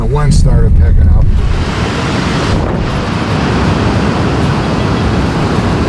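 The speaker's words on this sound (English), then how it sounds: "And the wind started picking up." Strong wind roars at a creek mouth on a lake during a March steelhead and brown trout fishing trip, a loud steady rush buffeting the microphone. A brief voice is heard at the start.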